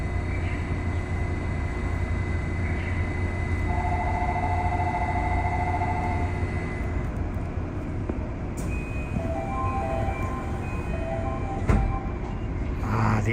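Steady rumble and hum of the Haneda Tokyo monorail in motion, heard from inside the car, with faint tonal whines rising and falling and a brief knock near the end.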